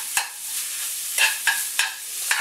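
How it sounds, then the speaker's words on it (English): Sausage gravy sizzles steadily in a hot pan, a continuous frying hiss broken by several sharp stirring scrapes and spatters; no one speaks. "Sizzling pretty good here."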